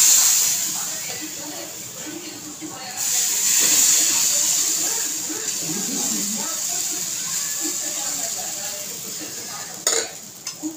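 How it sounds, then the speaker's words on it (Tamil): Adai batter is poured onto a hot dosa tawa, sending up a loud hiss that surges, holds, and fades, with light scraping and clinks of a utensil on the pan. "இப்போ வாங்க இந்த மாவை ஊற்றி அடை செய்யலாம்."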